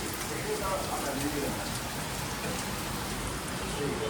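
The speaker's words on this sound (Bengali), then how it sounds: "ভালো জোরে বৃষ্টি হচ্ছে" Heavy rain pours down steadily, a dense, continuous hiss of drops beating on surfaces close by, unbroken and fairly loud for the whole stretch with no voices.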